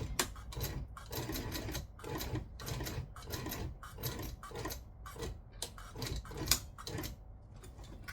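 A sewing machine stitches an embroidery design in short rhythmic bursts of rapid needle clatter, separated by brief pauses, heard close up with no talking.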